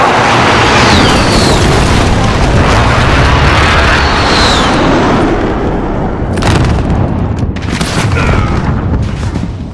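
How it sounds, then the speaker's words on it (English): During a Call of Duty: Modern Warfare Domination match on Hackney Yard, a friendly precision airstrike lands as a loud, rumbling chain of explosions, with sharp cracking bursts toward the end. "Be advised, friendly precision airstrike inbound."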